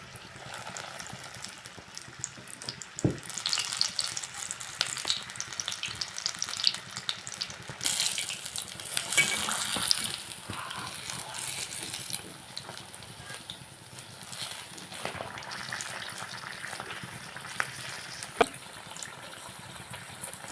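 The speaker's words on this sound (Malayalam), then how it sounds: "ഇതിനെ നമുക്ക് എണ്ണയ്ക്കകത്തോട്ട് ഇടാം ഇതുപോലെ ഇതെല്ലാം നമുക്ക് ചുട്ടെടുക്കാം" Chili bajji fritters deep-fry in hot oil with a continuous bubbling sizzle that swells as the battered chilies go in, plus occasional clicks and taps.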